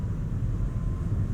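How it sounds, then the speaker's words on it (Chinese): A 2025 Volvo EX90 electric SUV accelerates on the road, heard from inside the cabin as a steady, low, even rumble and whir with no voices. "加速 ，OK， 宇宙飞船、太空船起飞的声音。"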